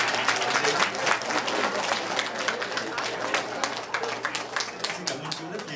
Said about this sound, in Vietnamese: một tràng pháo tay thật lớn cho khách mời Hà Nguyên Lãng